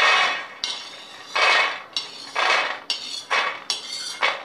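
Freshly roasted peanuts poured and scraped into a metal plate, giving about six separate bursts of rattling, clinking metallic scatter, each rising and cutting off sharply, close and fairly loud.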